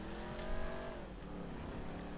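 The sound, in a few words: car engine in video game GTA V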